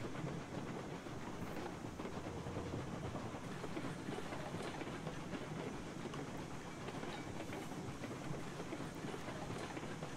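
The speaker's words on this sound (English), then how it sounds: "Train go burr, indeed it does." A steam-era train running in the video game Railroads Online, a loud continuous rumble with steady rolling clatter throughout, no talking over it.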